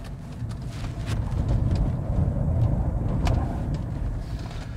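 A diesel Mitsubishi L200 Triton Sport HPE-S 4x4 engine hums steadily with some road noise, swelling slightly as the pickup corners at low speed, no one speaking.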